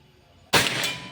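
A single sharp shot from a Pajero Gun air rifle during an accuracy test, an abrupt loud crack that starts from near silence and then fades as a short ringing tail.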